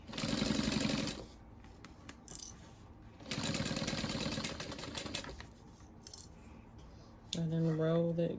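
A sewing machine stitches a 1/8 inch back-stitched seam on a circle handbag with its lining, running in two loud close bursts with a pause between, followed by a brief tonal whine at the end.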